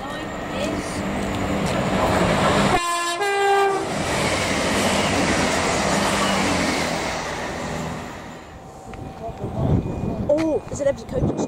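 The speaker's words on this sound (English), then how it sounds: "Oh, is it empty coaching stock coming?" An empty coaching stock train passes loudly at Acton Main Line, a heavy rolling roar with a sharp multi-tone horn blast early on, fading away near the end as voices talk.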